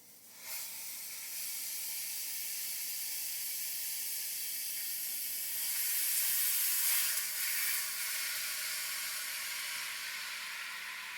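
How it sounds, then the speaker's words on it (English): Ground beef cooking in a pan gives off a constant close hiss that swells slightly midway, with no clear stirring strokes. "Put that down for a minute and stir the beef."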